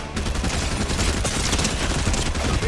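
Gunfire in the video game Fortnite Reload, a continuous loud barrage of rapid shots, close and dense, with no pauses over the short stretch.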